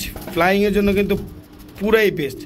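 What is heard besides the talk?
Shadel racer pigeon cooing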